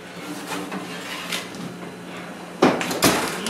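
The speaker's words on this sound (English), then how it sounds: "So we're going to reach in the oven and yank them out." A metal cookie tray pulled from a home kitchen oven gives two sharp clattering scrapes near the end, following quieter rustling and handling sounds.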